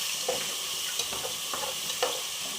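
Garlic, ginger and green chilli paste frying in coconut oil left from fried chicken for a curry, a loud continuous sizzle with a few soft stirring scrapes, close up and without speech.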